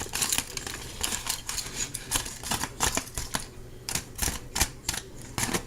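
A utensil scrapes salmon and vegetables out of a foil pouch onto a plate, making a rapid series of close, crisp scratching and tapping clicks with no talk.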